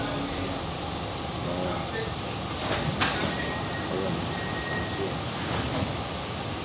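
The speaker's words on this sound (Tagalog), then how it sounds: "sa ilalim pala dumadaan ng tren na to" A continuous low rumble and hiss inside an underground train runs throughout, with faint clatters and a brief tonal squeal.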